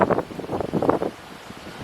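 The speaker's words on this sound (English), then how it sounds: "It's very windy" Gusty, cold wind in a garden buffets the microphone in rough bursts, loud at first and then easing to a quieter rush.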